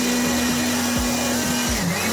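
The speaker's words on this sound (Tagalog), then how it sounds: "Og pagkahuman, gitistingan dahil nato ang ato ang blower window machine." A car wash blower machine, part of a foaming wash package, runs in a steady loud whine with a constant motor hum and airy rush, alone and unbroken throughout.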